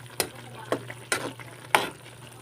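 Tofu and pork frying in a pan are stirred with four distinct scraping strokes of a utensil over a quiet background sizzle, heard close up with no speech.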